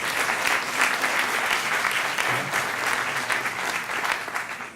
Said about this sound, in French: sous vos applaudissements, on accueille Faisal Ayed Saadi